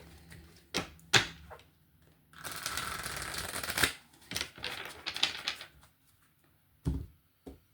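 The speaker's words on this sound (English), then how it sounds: "Actually, I'm going to give this another shuffle." A deck of tarot cards is shuffled close up: scattered taps and flicks, then a sustained riffling rush, followed by a few more soft card slaps.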